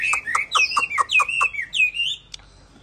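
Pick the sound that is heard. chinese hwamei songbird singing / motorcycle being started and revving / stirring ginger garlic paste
chinese hwamei songbird singing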